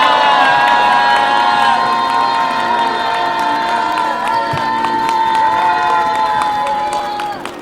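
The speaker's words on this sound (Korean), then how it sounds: "큰 박수로 맞아주십시오." A crowd at a street rally cheers, whoops and claps loudly and continuously, with shouts rising over the applause before it gradually fades toward the end.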